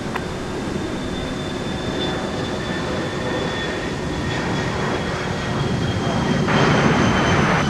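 An airliner starting its takeoff roll on runway 30 right at MSP Airport, a steady, broad, loud jet roar with faint whining tones that swells slightly toward the end, heard from a distance without talk.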